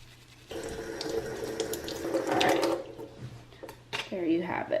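A makeup brush swirled around in a sink of cleaning mixture, giving a soft rushing, splashing water sound close by while someone talks.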